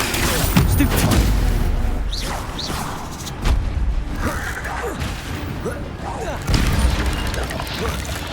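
Spellcasting in Hogwarts Legacy combat: a rapid barrage of whooshing magical bursts, crashes and booming impacts, loud and layered, with spoken spell incantations over the effects.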